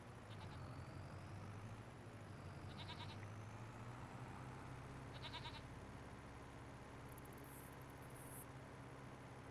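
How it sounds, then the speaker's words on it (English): Goats bleating on a farm in the video game Farming Simulator 25, a few short, thin bleats spaced apart over a steady low engine-like hum. "Goats sound happy this morning?"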